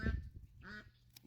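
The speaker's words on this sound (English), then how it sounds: "There's a duck." A duck in an orchard area gives a single short, faint quack, with little else around it.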